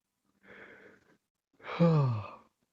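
A single human yawn in a quiet indoor lobby setting, starting with a soft breathy intake and swelling into a louder, falling, voiced exhale, heard close and alone.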